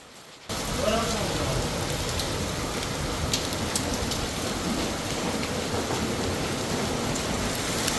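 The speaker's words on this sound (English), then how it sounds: "The weather is rainy with hail." Rain mixed with hail falls outside, a loud, constant roar of drops that kicks in abruptly after a short lull and continues evenly throughout, with occasional sharper impacts standing out from the wash.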